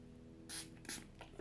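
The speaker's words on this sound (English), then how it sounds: "because I've put quite a bit of powder on, I like to use a setting spray." Makeup setting spray mists out in two quick, close hissing bursts, followed by a couple of fainter short puffs, in a quiet room.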